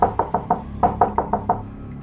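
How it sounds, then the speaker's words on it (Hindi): Knocking from inside a wooden wardrobe in an old room of a haunted mansion: two close, loud sets of about five sharp raps each, separated by a short pause. "अचानक अलमारी के अंदर से दस्तक सुनाई दी।"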